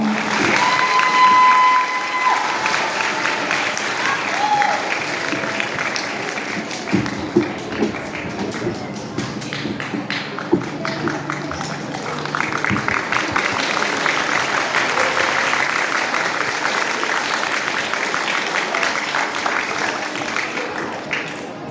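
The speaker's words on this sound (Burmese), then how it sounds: "နောက်တစ်ချိန်လောက်ကျွန်တော်လက်ခုပ်တီးပြီးဂုဏ်ပြုပေးကြရအောင်" An audience at a youth scripture recitation competition claps together in a sustained round of applause, dense and fairly close, with scattered individual claps standing out before it tapers slightly toward the end.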